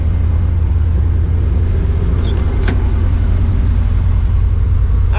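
A 1989 Chevy 1500 4x4 truck's engine, newly carb-swapped from TBI after sitting for years, runs at a steady, loud low rumble throughout, with a couple of brief higher-pitched squeaks partway through.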